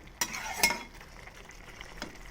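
Spinach and fish being stir-fried in a pan, with two sharp scraping stirs near the start, then a low, steady sizzle.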